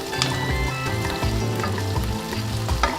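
Onions sizzle and crackle steadily in a hot pan, a loud continuous frying hiss with a few scraping stirs, no voices.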